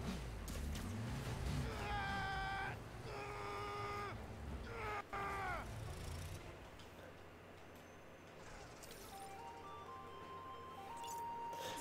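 A cat in Spider-Man Miles Morales meows three times in quick succession, clear and fairly close, followed by quieter game ambience and soft tones.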